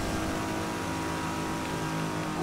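A tuned Lexus in the racing game Midnight Club 3 accelerates hard, its engine revving in a continuous rising drone that swells slightly at the end, with no talk over it.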